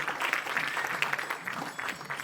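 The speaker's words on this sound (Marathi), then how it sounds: "जोरदार टाळ्या त्यांच्यासाठी वाजवण्यात गेल्या पाहिजेत" An audience at a kirtan competition event gives steady, moderately loud applause, a continuous crowd of hand claps with a few sharper individual claps standing out.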